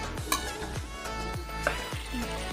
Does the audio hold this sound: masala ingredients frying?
yes